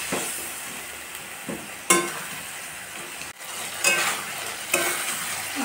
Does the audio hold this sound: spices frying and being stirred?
yes